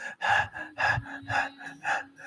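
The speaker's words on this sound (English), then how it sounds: "when you're stressed, this is how you often breathe" A person demonstrates stressed, shallow chest breathing with about five quick, rhythmic breaths in a little over two seconds. The breaths are close and fairly loud, with no talking over them.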